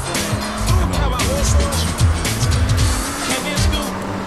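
Sports car tearing along in GTA San Andreas, engine revving hard with squealing tires and skids, a voice chattering over the driving.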